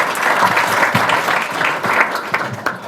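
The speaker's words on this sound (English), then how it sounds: "a round of applause" A conference audience at a summit in Africa gives a round of applause, a loud, sustained crackle of many hands clapping close by, with some rhythmic surges and a few distinct heavier claps near the end.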